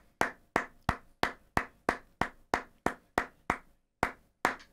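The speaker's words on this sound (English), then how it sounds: "Round of applause for the tree, please." Cartoon round of applause for a tree, heard as about a dozen single, sharp hand claps in a steady, evenly spaced rhythm, fairly quiet and alone with no talk.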